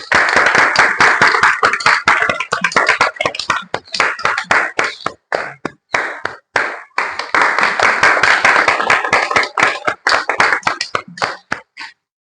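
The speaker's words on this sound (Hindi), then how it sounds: "तो मंत्री जी के लिए जोरदार तालियां।" Close, loud clapping in sharp bursts greets the minister in a comedy skit, with individual hand claps audible in uneven rhythm and short gaps where the clapping thins and pauses.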